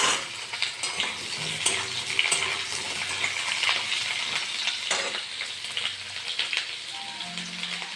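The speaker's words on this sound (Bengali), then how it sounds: "আমি মাংসের আলুটা ভেজে নেব" Potatoes for chicken curry fry in hot oil with a crackling sizzle close up, punctuated by clattering stirs and knocks of a utensil against the pan.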